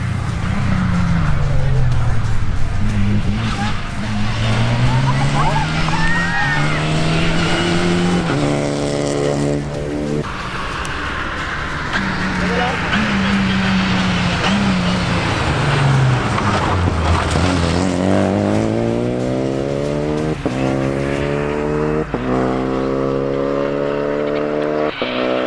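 A Renault Clio 5 Rally5 rally car driving hard on a rally stage, its engine loud and close, repeatedly climbing through the revs with sharp gear changes, with voices faintly over it.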